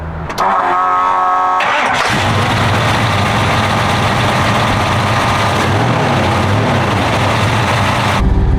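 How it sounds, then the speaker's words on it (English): A big-cam V8 engine on a Holley Brawler 950 carburetor starts with a brief crank, then settles into a loud, steady, lumpy rumble heard up close. "it runs fine, it starts fine, it idles fine"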